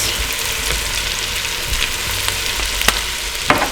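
Spicy rice seasoned with black pepper and chili flakes frying in oil, a loud close crackling sizzle with occasional clacks of a spoon stirring through the pan.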